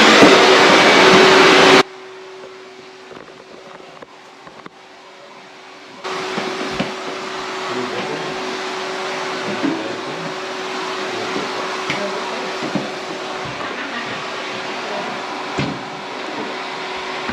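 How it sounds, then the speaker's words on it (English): A household vacuum cleaner runs with a loud, steady whine, drops lower for a few seconds, then settles into a fainter continuous drone with small bumps as it is pushed around a home. "Look, we have Santa Claus vacuuming."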